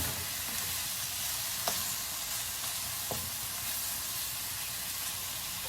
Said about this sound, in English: Browning the beef or the beef stew.